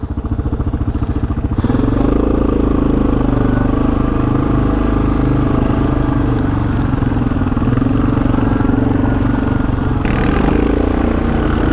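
CF Moto 520 ATV riding through forest mud, with a loud, close engine that pulses at idle at first and then settles into a steady, heavy drone that holds for the rest of the stretch.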